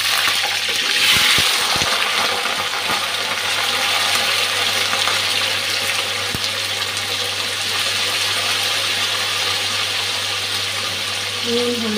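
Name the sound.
potatoes frying in hot oil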